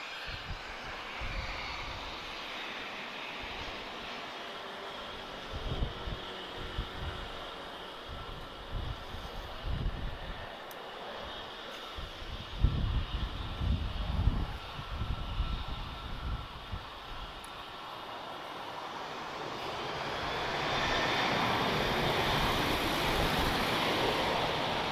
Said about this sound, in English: Okay, Ryanair on the move. This is Foxtrot Romeo 3079. She's flying to Barcelona. 737-800.